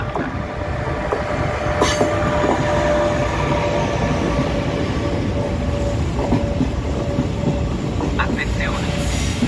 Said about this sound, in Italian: Attenzione, treno in arrivo al binario 7 sud.